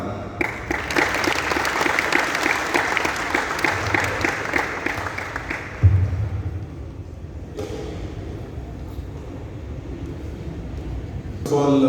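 Sustained audience applause in a lecture hall at IIT Madras welcoming an IAS officer, steady and full for several seconds before tapering off into quieter room noise, followed by a voice starting to speak.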